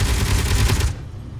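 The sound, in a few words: Gatling guns firing in Space Engineers video game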